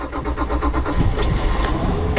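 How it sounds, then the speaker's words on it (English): Engines of a boat starting up at sea, carrying kelp forest restoration workers in Santa Monica Bay; a loud, steady low rumble with rising bursts of revving that fills the whole stretch, no voices. "And I'll just start the engines up."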